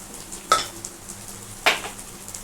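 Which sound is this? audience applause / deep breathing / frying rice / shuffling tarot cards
frying rice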